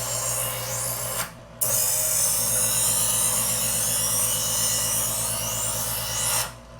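A fillet knife blade drawn slowly through a knife sharpener gives a steady, continuous grinding scrape that lasts several seconds, with a short break where the stroke restarts.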